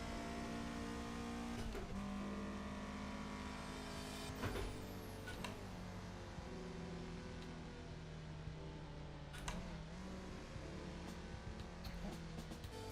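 Race car engine in Assetto Corsa on a track day, a steady droning hum with tonal layers that shift as gears change, faint and constant, with occasional sharper blips and talk over it.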